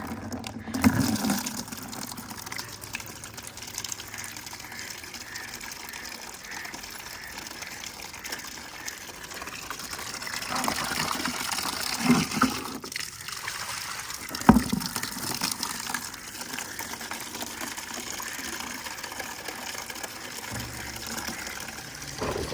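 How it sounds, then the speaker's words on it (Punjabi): Water from a supply tap gushes steadily into a bucket, a continuous splashing rush with a few brief knocks and clinks. "ਇੱਥੇ ਟੂਟੀ ਦੇ ਵਾਟਰ ਸਪਲਾਈ ਦਾ ਪਾਣੀ ਆਇਆ ਵਾ, ਮੈਂ ਕਿਹਾ ਇਹ ਭਰ ਲੈਨੇ ਆ"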